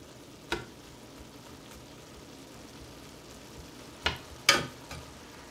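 Ground beef sizzles steadily in a hot pan for a tamale pie, with a few sharp scraping clicks from a spatula breaking up and stirring the meat near the end.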